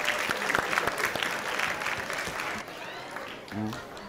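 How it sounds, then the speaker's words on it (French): Audience applause at a Guinean school prize-giving ceremony, brisk clapping from a gathered crowd that thins out about midway, after which a voice speaks briefly over the fading claps. "Il faut l'applaudir"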